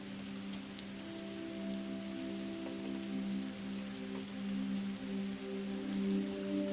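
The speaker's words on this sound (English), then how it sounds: "Rain." Steady rain falls on surfaces with scattered drop ticks, continuous and fairly quiet, over a constant low hum.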